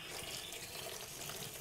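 Water runs steadily from a tap into a small bin set inside a sink, pouring over vegetables in an urban farming setup, a continuous close gush with no talking.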